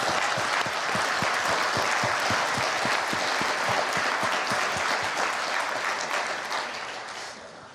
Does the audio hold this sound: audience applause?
yes